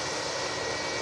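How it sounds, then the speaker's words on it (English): A Qatar Airways Boeing 777-300ER jet arriving at Manchester Airport, its engines giving a loud, steady roar that fills the short stretch with no voices. "The last arrival of the show, the Qatar 777-300ER coming in from Doha."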